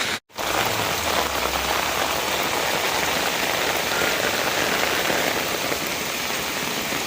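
Heavy red-alert rain pours down onto a road in a loud, dense, unbroken hiss of drops, steady and close after a brief silent gap at the very start.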